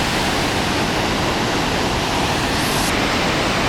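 Water roars steadily through three open gates at Hadagarh Dam, a loud, dense, unbroken rush with no pauses and no voices.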